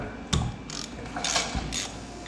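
Ratchet with a 9/16 socket working a plug on a Bobcat T190 skid steer, a few quick, close pawl clicks in short bursts, no voices.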